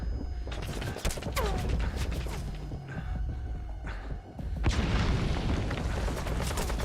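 Pump shotgun blasts in the video game Metal Gear Solid V: The Phantom Pain, heavy booming shots with a thudding low end scattered amid busy game noise, one louder blast near the end.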